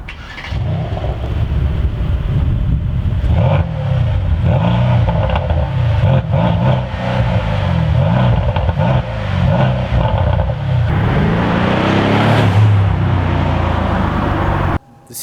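Mercedes-AMG C63 S coupe, 2020, with a 4-liter bi-turbo V8, revving loudly and steadily up close, its deep rumble rising to a harsher peak near the end before cutting off abruptly.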